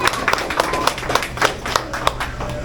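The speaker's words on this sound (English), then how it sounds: "Can we give them a round of applause, please?" A small group of tour visitors claps for the ice cream scoopers at the Ben & Jerry's factory, close and fairly loud, a brisk run of sharp individual hand claps with no speech over them.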